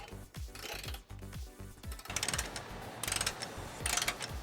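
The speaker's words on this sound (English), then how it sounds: "So now we're going to torque all 8 of our bolts to the vehicle manufacturer specifications. We'll be using a 13mm socket." Ratchet wrench fitted with a 13mm socket torquing trailer hitch bolts on a 2019 Toyota C-HR, loud rapid clicking bursts repeating in quick back-and-forth strokes, close up and with no talk.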